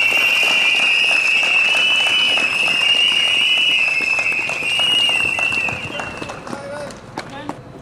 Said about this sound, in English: let's all give a round of applause to David for being strong